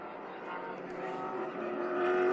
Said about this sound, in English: That's a great looking car there. Ernie Francis Sr. and the Breathless team prepares that car, and it does look like a Bandit car. Sounds great, doesn't it?